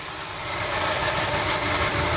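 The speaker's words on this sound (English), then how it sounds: "how much nicer now it idles" A car engine idles steadily up close after throttle body cleaning, a smooth continuous rumble with faint vibration, no voices.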